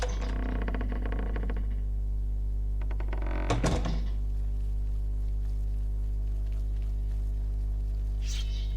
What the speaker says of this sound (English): Wooden door to abandoned basement.